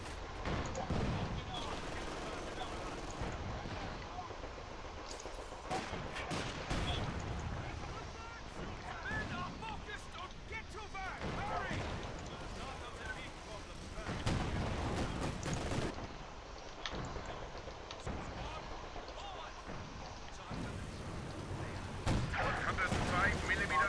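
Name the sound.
artillery fire in video game Company of Heroes 2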